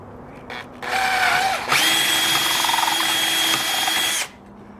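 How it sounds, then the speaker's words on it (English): Power drill boring holes with a 1/4 inch bit into a truck's base plate, a steady high whine in two bursts, the second longer and louder, then stopping abruptly. "drill out holes for that."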